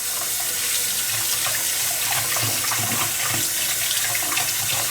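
Tap water runs steadily into a sink while a paintbrush is rinsed under it, a continuous close hiss and splash throughout with faint bumps of handling and no talk.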